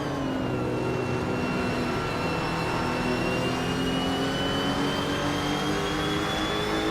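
Racing cars, including a Porsche 718 Cayman GT4, launch off the start line in a video game, a loud sustained roar of revving engines with rising whine layered together, continuous and close throughout.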